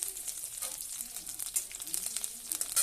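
Chopped garlic sizzles in hot oil in a wok, a steady bright frying hiss with small crackles and occasional stirring, close and continuous with no voices.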